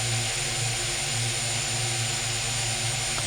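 A small RF8 drone coming down to land gives off a loud, steady high-pitched whine from its motors and propellers, close by and continuous, with a faint pulsing underneath and no voices.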